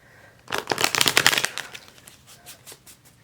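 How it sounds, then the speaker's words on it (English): Rider-Waite tarot deck being shuffled by hand: a close, rapid riffle of fluttering card snaps that peaks and then thins into a few scattered softer flicks, with no voices. "I did already meditate and shuffle these guys, but I like to do it on camera."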